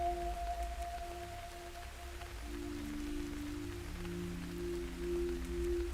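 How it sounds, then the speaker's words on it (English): Steady rain pattering in the video game Radiation Island, a soft continuous hiss with faint low game tones humming underneath and no voices. "Obviously it's raining now, so we're going to wait for it to stop raining."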